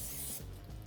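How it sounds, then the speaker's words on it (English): Non-stick cooking spray is misted onto hands in a kitchen while mixing no-bake protein balls, giving a short, close, steady hiss that stops abruptly after a fraction of a second. "We can spray our hands with non-stick cooking spray"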